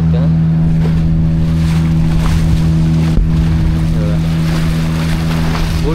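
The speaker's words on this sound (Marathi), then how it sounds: "बोट चालते बघा" A motorboat engine drones loud and steady on a dolphin-watching ride off Goa, its low hum mixed with wind and splashing waves against the hull throughout.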